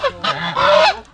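A goose or duck honks loudly and close in a series of nasal calls, about three or four honks in quick succession, with no talk over them.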